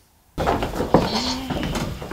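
A sheep on an Icelandic farm gives a single loud, close bleat that wavers and trails off into a shorter call, alone without talk.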